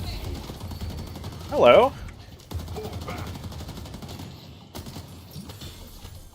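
Rapid bursts of gunfire with Tesla bullets crackle in a video game, with a sharp, loud burst standing out among quieter shots and background game noise, while a player talks.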